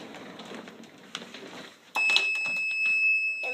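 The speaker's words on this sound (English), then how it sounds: "it lights up and the buzzer makes noise." A homemade door alarm buzzer wired to a battery and light bulb sounds as a door is opened; after a rustle of movement, a steady high electronic tone starts and holds, close and clear.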